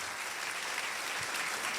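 Audience applause at a Portuguese-language institutional presentation, as a staff member from the information technology unit is introduced; a steady, fairly faint wash of many hands clapping with no voices.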